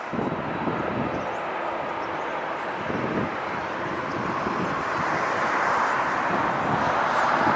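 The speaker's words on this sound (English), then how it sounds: "a little E175 United Express coming in from Eagle" An Embraer E175 United Express jet landing at LAX, a broad steady engine roar that swells gradually louder toward the end, heard alone without talk.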